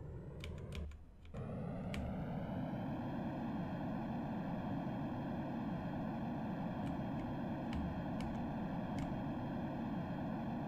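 An airplane engine at full power in the SimplePlanes flight game hums as a steady, sustained tone for about ten seconds, preceded by a few sharp clicks near the start, with no talk.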